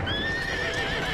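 A horse in Assassin's Creed Syndicate whinnies with a sustained, wavering neigh over a steady clip-clop of hooves, close and fairly loud with no talk.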